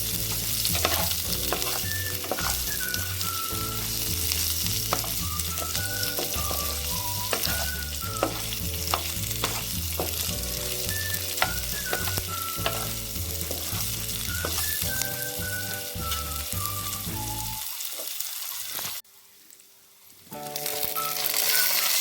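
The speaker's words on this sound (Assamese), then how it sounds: "এতিয়া এইখিনি মই অলপ দেৰি ভাজি ল'ম" Continuous sizzling of onions frying in oil beneath background music, with a short quiet gap near the end.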